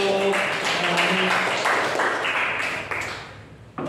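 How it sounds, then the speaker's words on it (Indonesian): A class applauding during an Indonesian language lesson at a junior high school, fairly quiet continuous clapping mixed with a voice and room noise, fading near the end. "Ya, tepuk tangan untuk ini."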